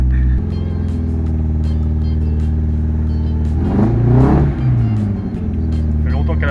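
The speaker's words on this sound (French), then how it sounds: "Ça fait longtemps qu'elle n'a pas démarré, ça s'entend." An old car's engine cranks and catches after long disuse, then idles roughly in a steady low rumble before revving up sharply and settling back, loud and close throughout.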